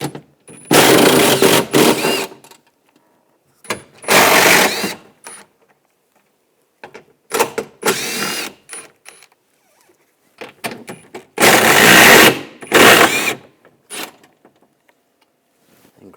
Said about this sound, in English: Using a 10mm socket, take these nuts off.